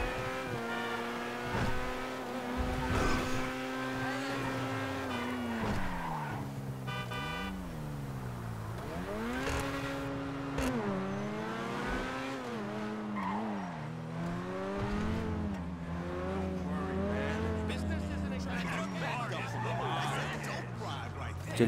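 Car driving in GTA Online with engine drone and occasional tire skids, mixed under steady talk and game audio throughout; skid noises are brief and not dominant.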